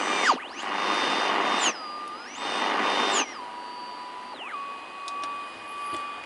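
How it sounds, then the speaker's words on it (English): A radio picks up an AM oscillator, giving hissing static bursts broken by sliding, swooping whistles and a steady high squeal, moderately loud with no voices. "I should get some kind of a squealing sound or something"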